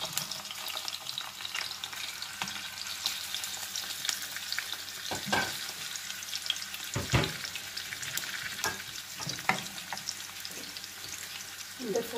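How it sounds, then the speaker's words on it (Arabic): Kofta meatballs fry in oil before onion is added, a continuous close sizzle broken by several stirring scrapes and knocks of a utensil against the pan, with no talking. "اول حاجه غنبداو بها هي الكفته اللي غنديروها تشحر"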